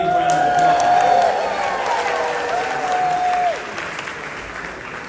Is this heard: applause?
yes